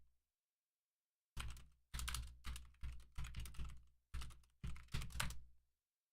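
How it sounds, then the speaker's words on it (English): Bursts of typing on a computer keyboard come in about eight quick clusters of clacking keystrokes, close and fairly loud, separated by short pauses, with no talking. "Just typing it out in case."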